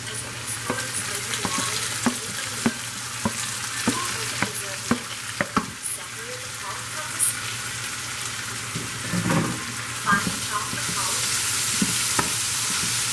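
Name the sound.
sautéing hot peppers and ingredients in a pan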